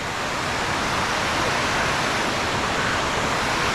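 A large waterfall gives off a steady, dense roar of rushing water, loud and unchanging throughout with no voices over it.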